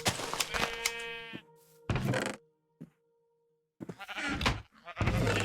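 Blocky sheep in Minecraft bleat in short, harmonic calls, a few separate bleats with brief silences between them, fairly close and clear, with no talking.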